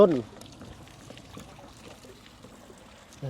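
Faint, steady trickle of water flowing from a hand pump, with short bursts of talk at the very start and end.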